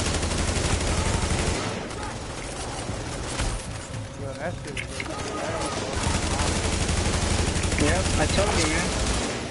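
Sustained automatic assault rifle fire rattles through a video game firefight, with rapid continuous shots carrying through the whole stretch while a player talks over it.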